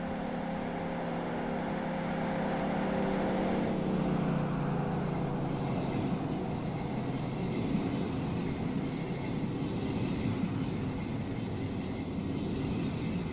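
A train on the Maurienne line pulling into Aiguebelle station, a steady close rumble of wheels and carriages with a whining tone that drops as it slows.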